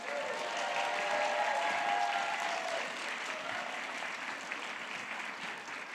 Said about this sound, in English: Can we please give her one more round of applause?